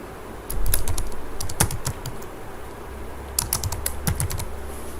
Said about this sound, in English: Here I will type my company or channel name